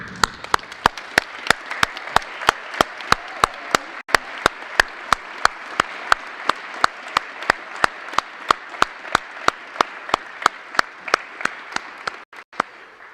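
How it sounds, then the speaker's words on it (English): Audience applause for first-year JROTC cadets at a high school change of command ceremony, a long rhythmic round of clapping with evenly spaced, loud synchronized claps over a softer crowd wash, ending abruptly. "please stand and receive the rally of applause you've earned"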